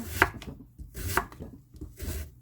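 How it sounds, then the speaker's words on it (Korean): A knife chops through radish on a cutting board, three distinct thuds spaced about a second apart, close and crisp with no talking. "무를 썰어서 꽃게탕 끓일 냄비에 넣어줍니다."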